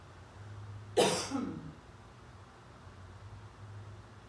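A single close cough breaks a quiet room, with a low steady hum underneath.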